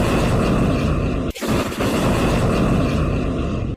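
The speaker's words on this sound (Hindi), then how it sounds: "हिजबुल्लाह ने सबसे पहले मनारा सेटलमेंट पर रॉकेटों का एक जत्था फायर किया, जिसका एक वीडियो भी सामने आया है।" A Hezbollah rocket barrage fired toward the Manara settlement produces a loud, dense roaring rush that runs almost without a break. One sharp dip and a crack-like burst come near the middle, and the roar cuts off abruptly at the end.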